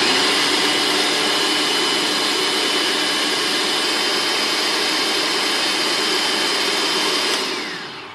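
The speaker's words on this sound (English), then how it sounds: "put it inside the food processor" A food processor whirs loudly and continuously as it blends chipotle peppers in adobo sauce, a steady dense motor roar holding for several seconds before winding down at the end.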